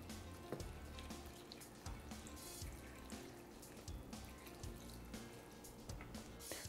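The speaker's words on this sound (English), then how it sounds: "Now I need to put the purified water in." Purified water trickling and dripping from a container into a small springtail culture tub lined with charcoal, a steady soft pouring with scattered drips, close and quiet with no talking.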